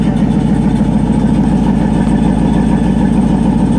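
A 1961 Buick Invicta engine idles close by with a deep, throaty exhaust rumble, steady and loud throughout without revving.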